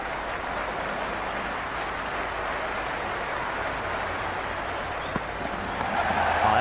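Stadium crowd cheering in the Cricket 26 video game during an India versus Australia match, a steady broad roar of spectators at even volume throughout.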